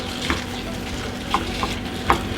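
Washed bulgur goes into melted butter in a pan and is stirred. A steady soft sizzle runs throughout, with a few light scraping clicks from the stirring, close by.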